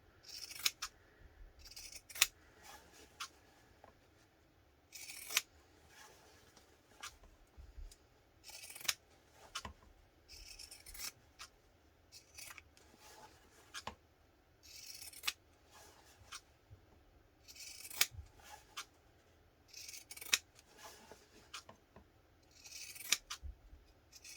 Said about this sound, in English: I kind of have a hard time with the pinking shears in my hands